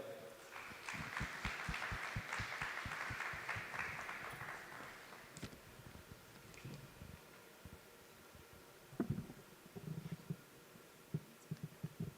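An audience at a formal event honouring the Indian Ambassador breaks into faint, distant applause, a rapid patter of claps that thins out over several seconds, with a few scattered louder knocks afterward.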